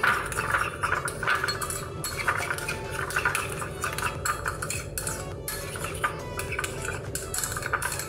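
Steady scraping and clinking of a utensil stirring through a thick mayonnaise sauce in a bowl, continuous and close, with no voices.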